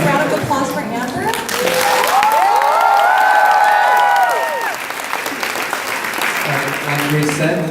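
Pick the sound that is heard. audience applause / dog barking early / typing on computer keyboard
audience applause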